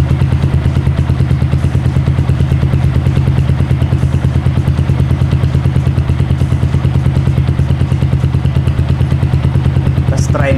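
A Keeway CR152 motorcycle fitted with a BR mini bottle exhaust pipe idles loudly and close by, with a fast, even, thumping pulse that holds steady for the whole stretch.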